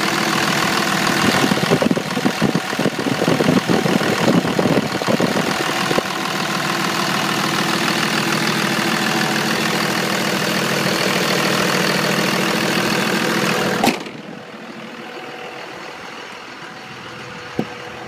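Cummins diesel engine of a 4x4 truck with a 6-speed idling nearby, a loud, steady rumbling clatter that drops abruptly to a much quieter hum near the end.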